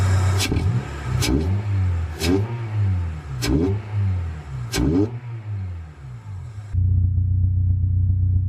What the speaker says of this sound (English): As I rev the engine